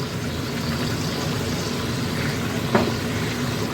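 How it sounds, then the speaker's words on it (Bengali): Mutton frying in a pan as ginger-garlic paste is added, a steady close sizzle with one brief soft thump partway through. "এবার বেটে রাখা আদা রসুনের পেস্টটা দিয়ে দিচ্ছি।"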